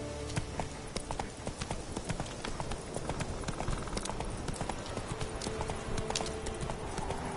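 Steady clip-clop of a horse trotting in The Witcher 3 video game, hooves beating in a quick even rhythm, close and continuous throughout.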